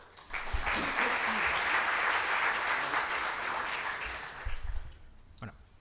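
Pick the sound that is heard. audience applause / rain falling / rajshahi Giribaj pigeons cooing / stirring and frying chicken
audience applause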